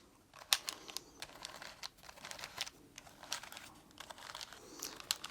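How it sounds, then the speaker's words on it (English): Fingertips drag and tap across the plastic keys of a calculator, making soft, rapid clicks and rattles in uneven bursts. The sound is close and quiet, with no talking. "when you run your fingers across all the keys."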